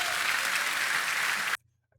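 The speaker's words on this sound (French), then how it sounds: "Mon sketch sur la corruption, par applaudissement, tout le monde là." Audience applause for a comedy sketch about corruption, a dense burst of clapping close by that stops abruptly after about a second and a half.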